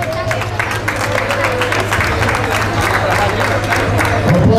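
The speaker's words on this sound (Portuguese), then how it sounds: "Aplausos para estas três campeãs." Audience applause at a trail race award ceremony (Amarante Christmas Trail), steady clapping and crowd noise running through, with a voice talking over it and a low steady hum underneath.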